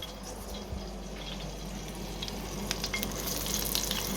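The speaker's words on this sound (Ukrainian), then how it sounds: "кладу на сковорідку," Chicken breast sizzles in a frying pan with a steady, moderately loud crackle, and sharper pops and spatters build toward the end. No voices are present.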